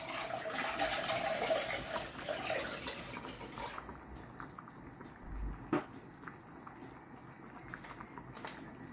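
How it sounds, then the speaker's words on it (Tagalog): Water pours into a pot of fruit cocktail syrup in a steady, soft running splash that thins out halfway through. A light clunk follows, then quieter trickling. "Dagdagan natin ng tubig."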